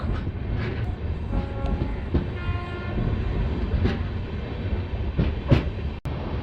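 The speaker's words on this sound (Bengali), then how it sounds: "গাজল স্টেশন থেকে ট্রেন ছেড়ে বেরিয়ে যাচ্ছে" Tebhaga Express with LHB coaches pulling out of Gazol station, a continuous close rumble of rolling coaches with clickety-clack over joints and a brief horn sounding in the middle.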